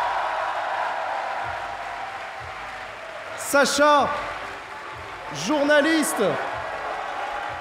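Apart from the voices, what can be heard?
audience applause for a guest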